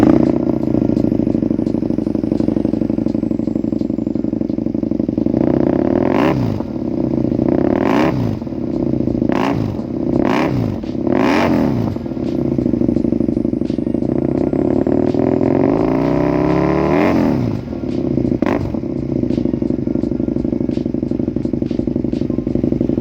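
Husqvarna 898 cc two-cylinder motorcycle engine fitted with an aftermarket exhaust, idling with a steady rumble and then blipped through a series of sharp revs, loud and close with no talking.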